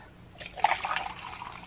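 Water poured from a cup to dilute dragon's blood tie dye, a soft liquid splash and trickle rising briefly then thinning out, faint and close with no talk.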